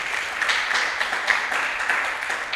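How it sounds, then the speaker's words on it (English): Brief applause from an audience at an event, with a steady patter of many hands clapping at a moderate, even level for a couple of seconds. "Please, a round of applause for him"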